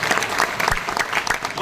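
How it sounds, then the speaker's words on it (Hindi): Loud applause from a seminar audience in Ahmedabad, a dense burst of clapping throughout the short moment with a faint voice underneath. "एक बार जोरदार ताली नौकरी वालों भाई।"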